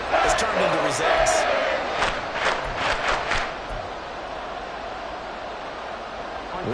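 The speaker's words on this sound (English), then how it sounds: "This crowd turning up the decibel level." Stadium crowd noise in a Madden football video game, a loud roaring crowd with chant-like surges and sharp thumps, settling to a steady murmur; speech-like voices sound within it.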